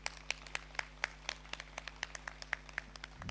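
Rhythmic, evenly spaced clapping from a group at a yoga camp held in Gurma jail, Sonbhadra, quiet and steady over a low hum.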